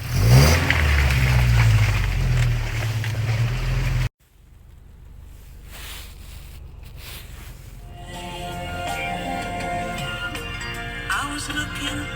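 A Toyota pickup with a rebuilt 22RE engine revs hard off road in four-wheel drive, a loud, close, low growl for about four seconds before cutting off abruptly, followed by quieter background music.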